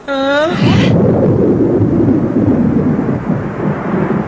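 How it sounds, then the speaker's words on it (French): A loud rumble of thunder rolls on and on, deep and heavy, after a brief whistling tone at the start. "La pluie. Un orage!"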